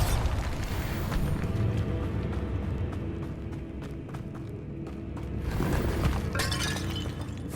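A Bombarda blasting spell goes off in Hogwarts Legacy, with a loud booming burst followed by shattering, crumbling debris and scattered clattering impacts that swell again near the end.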